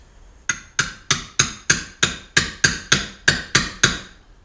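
A hammer strikes a chisel into the pinch joint of a BMW E46 xi front axle carrier, about eleven sharp metallic blows in a steady rhythm, close and loud with no talk.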